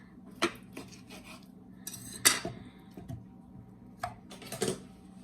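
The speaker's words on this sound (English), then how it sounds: "I'm going to cut it so it'll fit into my little blender here" A knife cuts corned beef into chunks on a hard board in a few irregular chops and clacks, with small knocks between, close by and moderately loud.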